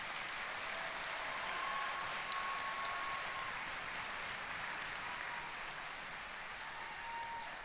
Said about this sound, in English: Please join me in a round of applause of our master's degree students